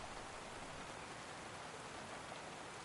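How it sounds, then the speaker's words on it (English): Heavy rain pours down in a dense, continuous wash of hiss, steady and even throughout, heard from indoors or sheltered nearby without any voices. "this rain is noisy as hell"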